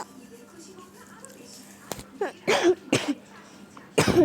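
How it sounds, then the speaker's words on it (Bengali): A person with a cold coughs three times in quick bursts, harsh and close, after a quiet stretch with faint background hum. "ঠান্ডা কাশিতে গাইস শেষ আমি"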